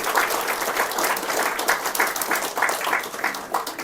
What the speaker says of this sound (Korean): 서은희 자매님께 아주 큰 박수 부탁드립니다